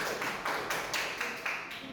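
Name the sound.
classroom applause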